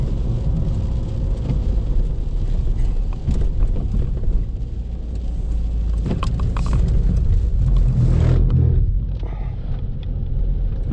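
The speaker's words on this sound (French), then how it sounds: "J'adore quand il pleut comme ça, tu fais chasser un peu la voiture." A Fiat 500 drives in heavy rain, with a steady loud road and engine rumble and the hiss of wet tyres running throughout, swelling briefly near the end before easing off.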